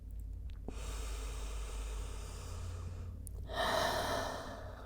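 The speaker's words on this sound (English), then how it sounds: "Maybe you want to take a few open mouth exhales." Open-mouth exhales during a hip-opening yoga flow, breathy airy rushes close to the mic over a low steady hum, with a stronger, louder breath out near the end.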